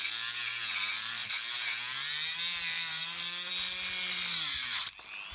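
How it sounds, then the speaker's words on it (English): A new Dremel rotary tool cuts into Hexbug plastic bodywork, a close, high whining grind with wavering pitch that runs steadily and then stops abruptly just before the end. "So that was actually the first test drive for my new Dremel"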